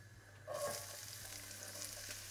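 Onions hit hot oil in a frying pan with a sudden hiss while cooking a fish broccoli curry, then settle into a steady, soft sizzle and crackle.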